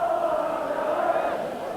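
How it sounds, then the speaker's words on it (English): A rugby league crowd at Thrum Hall sings during Halifax versus Australia on the 1990 Kangaroo Tour, a steady massed chant rising and falling from the stands. "The crowd starting to even sing."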